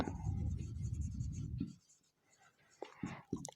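Steady scratchy strokes of writing on a board during a Class 9 maths lesson on a rhombus's perimeter, dense and close for almost two seconds, then a near-silent pause followed by a few faint brushing sounds and soft vocal noises.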